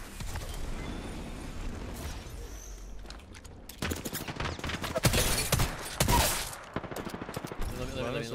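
A frag grenade detonates in the battle royale game Apex Legends, a loud booming blast amid rapid gunfire bursts, with the mix of shots and explosions dense and continuous.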